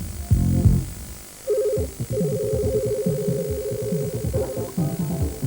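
Telephone touch-tone dialing in a 1996 Turkish TV promo, a sustained tone sequence running for several seconds over a busy low-pitched background.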